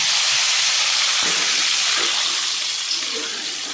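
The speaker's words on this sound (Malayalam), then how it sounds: "ഇനി അതിനകത്തേക്ക് ശകലം 1 ഗ്ലാസ് വെള്ളം ഒഴിക്കുക" Water poured into a hot frying pan of browned ginger and onion for a Kerala-style gooseberry pickle sets off a loud, steady steam hiss and sizzle that fills the whole stretch, easing slightly toward the end.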